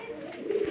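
A pigeon coos once, a short soft throaty call rising near the end, close by in a quiet indoor setting with no talk.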